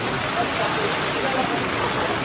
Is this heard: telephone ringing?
no